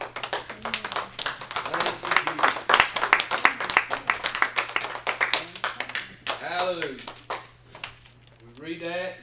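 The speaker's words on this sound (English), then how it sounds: "Give him a hand clap." A church congregation claps their hands in a lively, uneven burst, with shouts and voices mixed in over a low steady hum. The clapping fades as a voice takes over near the end.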